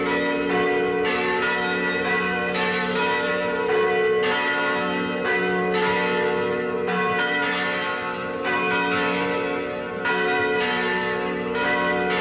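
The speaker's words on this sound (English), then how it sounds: "the Queen arrived and the mission bells were ringing" Large mission church bells in Santa Barbara ringing steadily in a continuous, resonant peal during a royal visit, with repeated strikes overlapping under a broad outdoor hum.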